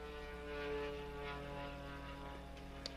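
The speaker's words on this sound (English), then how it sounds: "That is a very loud plane." Loud propeller airplane flying overhead, a steady droning hum with a constant engine tone that swells slightly and holds throughout, with no talking.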